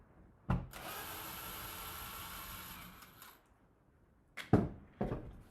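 A power driver fitted with a T10 bit backs screws out of a wooden solitary bee hotel. A short burst of sharp whirring runs for a few seconds, followed by brief clicks and knocks.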